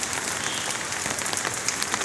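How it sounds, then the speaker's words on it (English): Heavy pouring rain over a deserted street with a small Kashmiri shop, a steady dense hiss with a continuous patter of drops that keeps a constant level throughout, with no voices. "because it's raining. It's pouring."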